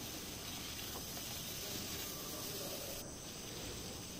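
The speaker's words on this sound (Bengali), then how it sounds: "এখন দিয়ে দিব ভাজি মাছগুলা।" Fried fish added to a pan of curry made with olives, giving a steady, even sizzling hiss close up that holds throughout and dips slightly near the end, with no talk.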